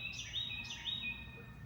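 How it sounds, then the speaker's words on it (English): Faint birds chirp outdoors near a bird feeder, with a couple of short high twittering calls over a low, steady background rumble. "Lots of birds"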